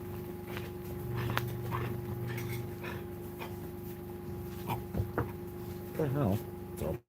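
A pet dog whimpers and pants close by, with thin whining cries rising near the end over a steady low hum and some scattered movement.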